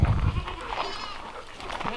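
Goats bleating on a farm, a few overlapping wavering calls close by, loud at first and then fading into softer cries over background noise.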